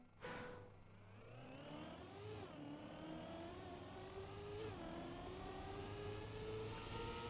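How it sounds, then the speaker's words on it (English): Race car engines in the video game Apex Legends roar steadily, with rising pitch sweeps as cars accelerate and shift, a continuous loud whine of motors speeding past. "Let's wait for the cars to go speedy."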